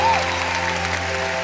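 Church congregation clapping loudly together during a worship service, a dense steady wash of applause heard close and alone, with a faint sustained tone lingering beneath.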